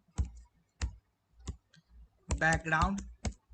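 Code typed on a computer keyboard, sharp individual key clicks in an uneven rhythm, close up, with someone speaking briefly between keystrokes.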